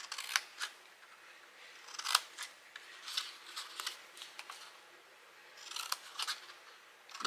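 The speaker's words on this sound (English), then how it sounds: "So I'm just cutting a little off from each side of those score marks." Scissors snip a cardboard treat-box template at the bottom score marks for a reindeer box, a series of close, crisp, irregular cuts alone with no talk, some louder than others.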